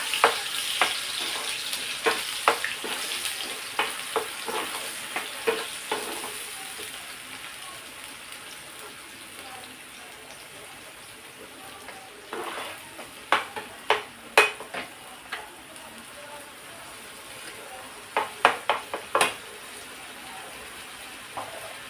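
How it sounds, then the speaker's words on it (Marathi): Masala with ground onion and ginger-garlic paste sautéing in a pan, a soft continuous sizzle broken by bursts of quick spatula scrapes and taps, close up, with no speech over it. "लाल होईपर्यंत ते मसाला परतून घ्यायचा"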